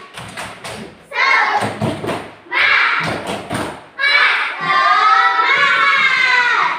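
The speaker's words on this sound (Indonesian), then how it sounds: "Tepuk semangat." Children in a classroom perform a tepuk semangat rhythmic clapping chant: bursts of loud, close clapping alternate with shouted chanting voices, ending in a long sung call.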